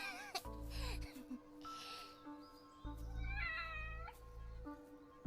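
A cat meows twice in an anime scene, each call a clear, moderately loud cry that rises and falls, with faint background tones and no talk over it.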